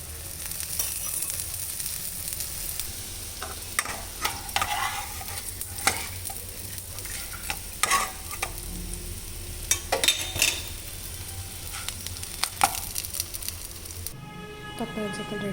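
Lentil (bobbarlu) rice crackers shallow-frying in a little oil on a flat pan, a steady low sizzle with intermittent stirring and scraping clicks throughout, with a brief background voice near the end.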